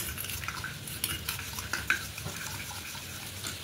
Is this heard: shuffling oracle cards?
no